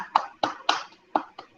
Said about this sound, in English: Give applause to all of you.